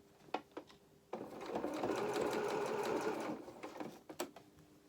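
A sewing machine stitches through a fabric coat for a small rabbit doll's opera coat, a steady close whirring run of about two seconds framed by brief clicks and handling taps before and after.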